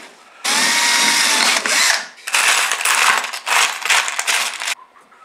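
Power drill boring a hole while a photo-studio softbox is assembled, loud continuous whine in several bursts separated by short pauses, with no talking.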